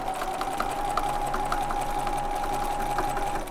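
Sewing machine stitching quilt-as-you-go seams in the ditch along a triangle, a steady continuous motor hum with rapid needle rhythm running throughout, close and unbroken.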